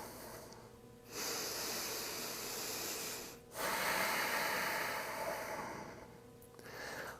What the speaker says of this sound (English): Breathing deeply to get through this challenging pose.